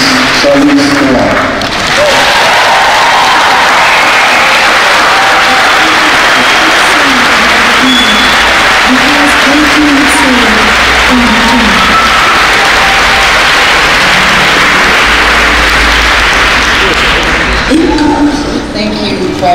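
Audience at the opening session of the AIDS 2016 conference applauding to welcome Charlize Theron, a long, loud, dense wave of clapping that swells and holds for many seconds before tapering.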